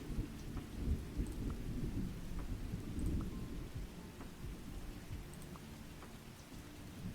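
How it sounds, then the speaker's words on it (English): A video game background plays a thunderstorm effect, with steady rain and low rolling rumbles of thunder that swell and fade throughout, and no voices. "I usually turn the thunder effects off"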